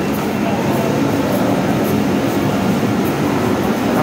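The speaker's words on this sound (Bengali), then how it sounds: "Motijheel metro rail station." Dhaka metro rail train at Motijheel station, a loud continuous rumbling roar of rolling stock filling the space, steady throughout with a faint high whine above.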